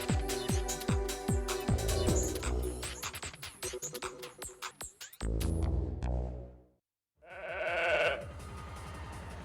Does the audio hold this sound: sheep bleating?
yes